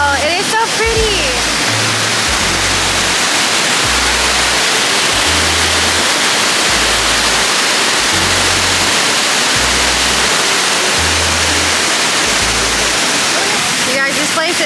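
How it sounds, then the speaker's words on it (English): Shifen Waterfall in Taiwan roars loud and constant, a dense unbroken rush of falling water that fills the whole scene at close range. "we're at Shifen Waterfall"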